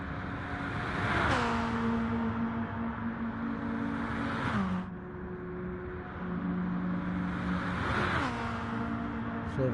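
Racing car engine at top speed in GT Sport, a loud sustained high-pitched drone that drops sharply with each gearshift or lift every few seconds, then climbs again, with no talk.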